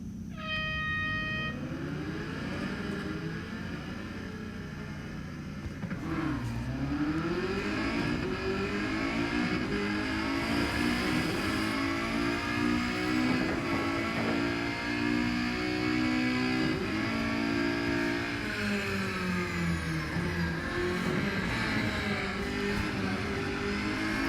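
Race car engines in the Real Racing 3 video game at Le Mans, a continuous loud revving drone that rises and falls through gear changes for the whole stretch, with no talk over it.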